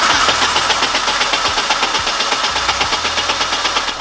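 A Ford Focus RS engine runs loudly up close with a rough, knocking mechanical clatter and a steady idle drone throughout, with no voices.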